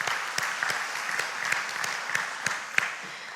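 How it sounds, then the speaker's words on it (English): Audience applause at a community impact grant announcement, a steady patter of many hands clapping with a few sharper claps standing out, moderately loud throughout. "So let's give ourselves a round of applause for being a part of that."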